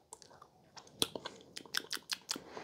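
Close, quiet chewing of a seasoned steak mix tasted off a finger, soft irregular wet crunches and mouth clicks, growing a little busier toward the end.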